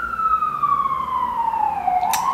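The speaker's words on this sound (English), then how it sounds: "do you hear the New York sirens?" An emergency vehicle siren on a New York street, a single wailing tone sliding downward then starting to rise again, moderately distant and steady with no talk.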